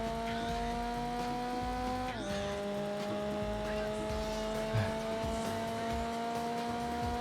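Engine drone of a Nissan Skyline in the racing game Gran Turismo 4, a steady high whine that drops in pitch once and carries on, with faint tyre squeal and brief talk over it.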